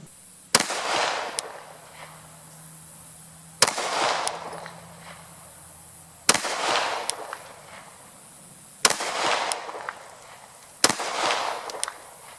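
Handgun fitted with a Holosun 407C red dot fired freehand outdoors while being sighted in: five single sharp shots spaced a few seconds apart, loud and close, each with a short echoing tail and quiet background between.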